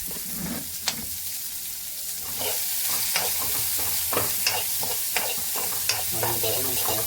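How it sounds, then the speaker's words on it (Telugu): Chopped onion frying in a pan for ridge gourd chutney, stirred with a utensil: steady sizzle with sharp scraping clicks and knocks of the spoon against the pan at irregular intervals, close up, no talk. "హాఫ్ ఆనియన్ వేసుకున్నాం కదా, ఇప్పుడు మనం మంచిగా తిప్పుకోవాలి."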